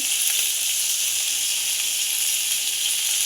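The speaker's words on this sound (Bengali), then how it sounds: "বসিয়ে দিয়েছি উচ্ছে ভাজা" A steady, loud sizzle of bitter gourd frying in hot oil, continuous hissing with no voices.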